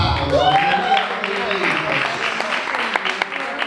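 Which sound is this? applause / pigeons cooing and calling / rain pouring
applause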